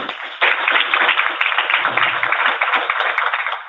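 An audience applauds in a packed hall at a book event of the Congolese community in Ottawa, with a steady, dense wash of clapping from many people that starts abruptly and holds throughout.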